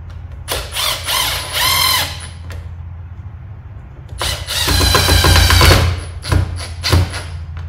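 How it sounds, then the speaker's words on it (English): A power driver whirs and ratchets in two close bursts as a screw is driven into the end panel of a 55-inch three-in-one game table, with short clicks and knocks between. "Insert your number 54 screw and secure."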